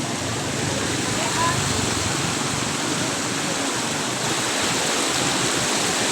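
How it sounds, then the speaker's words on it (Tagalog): Floodwater rushes steadily across a flooded road, a dense continuous roar of moving water that stays close and loud throughout. "Malalim na naman yung tubig dito"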